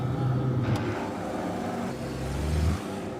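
A car engine rumbles from inside the cabin, fading briefly before building again into a deeper, louder surge of acceleration near the end, then cutting off abruptly.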